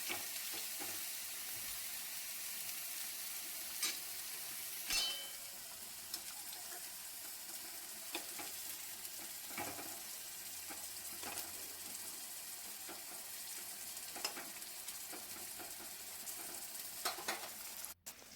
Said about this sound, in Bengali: গ্যাসের ফ্লেমটা লো করে তিন থেকে চার মিনিট ভেজে নেবো এদিকে বেগুন ভাজাটাকে উল্টে পাল্টে নেবো